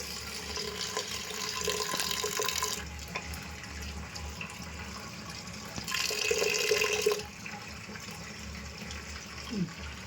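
Water runs into a pressure cooker for boiling sweet corn in a home kitchen, two splashing pours a few seconds apart, close and moderately loud, with faint background voices.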